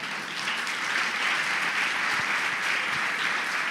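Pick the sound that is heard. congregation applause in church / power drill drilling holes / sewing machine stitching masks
congregation applause in church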